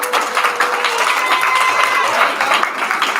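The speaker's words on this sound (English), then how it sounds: "Give Michael O another round of applause" An audience at a school Black Heritage program applauds a student presenter, giving steady, loud, full-room clapping that holds evenly for a few seconds.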